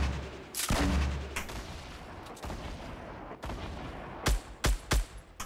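Fortnite Battle Royale gunshots crack out in a loud close burst early on, then sharper single shots land in a quick cluster near the end over a steady game background.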